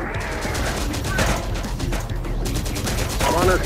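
Rapid gunfire rattles through a Terminator: Dark Fate Defiance battle, with dense overlapping bursts and volleys of automatic weapons held at a steady, loud level, plus shouted game-voice callouts mixed in.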